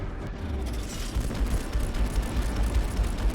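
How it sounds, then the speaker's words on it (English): Torpedo explosions in space in the game Strike Suit Zero: dense rumbling blasts and crackling booms roll continuously, heavy in the low end, growing after the first second. "Oh, thank goodness for torpedoes."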